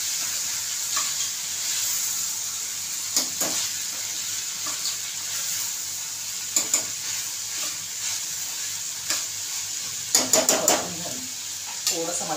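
Cluster beans being sautéed in a pan with onion, garlic and masala, a steady sizzle with occasional scraping stirs and clinks of a utensil against the pan, loudest near the end.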